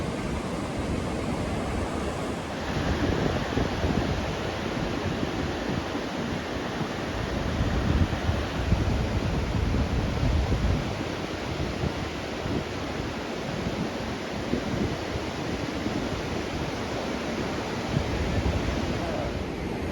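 Atlantic Ocean waves wash steadily against a rocky coast, a constant broad roar of surf with wind rumbling underneath for the whole stretch.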